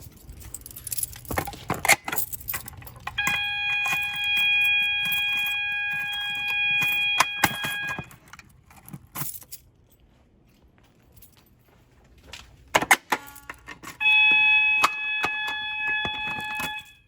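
A System Sensor MASS ADA fire alarm under test sounds a steady, piercing electronic tone in two separate stretches, with clicks, knocks and handling noises before, between and after them.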